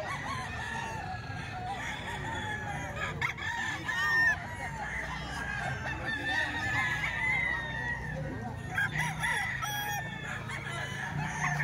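Multiple roosters crow one after another, some near and some farther off, over a steady din of clucking poultry.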